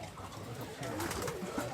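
Healthy pigeons at a pigeon farm in Rajshahi coo softly and steadily, close by, while someone talks over them.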